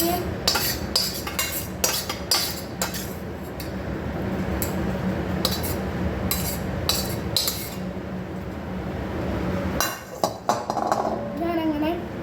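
Dishes are being washed by hand at home. Utensils clink and clatter in sharp, irregular bursts, denser at first and again near the end, over a steady background with a voice now and then.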